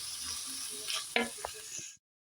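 Minced meat frying in a pan for a macaroni casserole, a steady quiet sizzle with a couple of sharp stirring clicks and scrapes, ending abruptly in silence.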